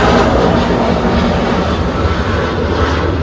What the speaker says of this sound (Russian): Смотрите, у нас самолет летает тут. Потому что в плохую погоду самолеты летают прямо над нашим домом.